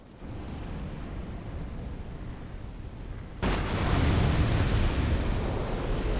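Bomb-carrying enemies setting off a chain of explosions in Dark Souls 2: a low continuous rumble jumps abruptly into a louder, broad roaring blast that keeps booming to the end.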